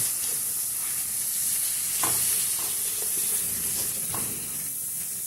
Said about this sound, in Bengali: ভালো করে নেড়ে চেড়ে মিশিয়ে নিতে হবে।